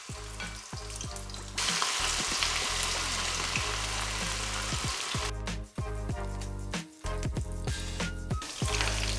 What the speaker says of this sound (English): Now we'll start frying the chicken.